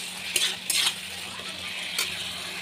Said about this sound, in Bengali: তো এই যে দেখো আলুর মশলাটা আমি এখন একবার লেড়ে দিচ্ছি